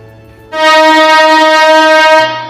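A Cuddalore Port–Salem DEMU passenger train sounds a loud, steady horn blast of about two seconds at Chinna Salem railway station. The blast is close by and rises sharply out of quiet station background.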